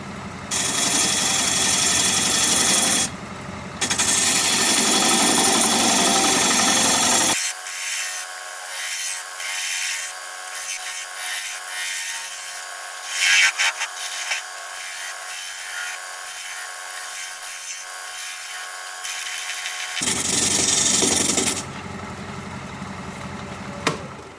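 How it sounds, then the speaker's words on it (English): Plum wood spinning on a wood lathe as a 3/8 inch bowl gouge cuts a tenon, a steady broadband scraping hiss with motor hum, louder at the start and end and with a thinner, brighter middle stretch. "I'm using a 3/8 inch bowl gouge to create the tenon"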